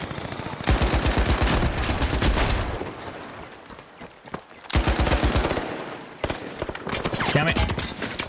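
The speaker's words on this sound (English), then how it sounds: "old Explodey and his Explodey gun still shooting at us" An enemy's explosive gun fires during a match of The Finals: loud, fast-repeating shots come in several bursts with short pauses between them, close at hand and mixed with game noise.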